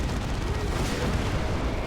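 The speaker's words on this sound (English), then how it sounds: "There is the grenade barrage though." A grenade barrage in the strategy game Dawn of War 2: Retribution, with Space Marines facing Orks, heard as a dense, continuous rumble of overlapping blasts filling the whole short stretch.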